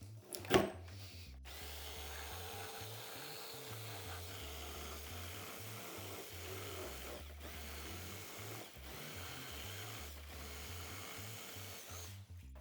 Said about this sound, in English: just take out your jigsaw